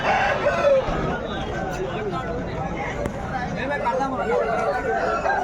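A rooster crows amid clucking fowl and a babble of people talking at the Pileru poultry market, the crowing standing out over a busy, noisy background.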